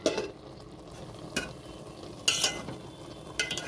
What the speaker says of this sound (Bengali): চাপাটা নামিয়ে একটু চালটা ঠিকঠাক সিদ্ধ হওয়ার জন্য একটু নাড়াচাড়া করে দিচ্ছে